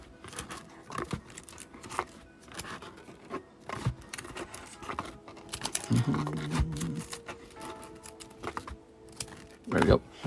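Karuta trading cards are shuffled by hand at a live card shop, giving quick papery flicks, slides and tapping clicks in an irregular rhythm, close to the mic, with a few louder bursts and faint background voices.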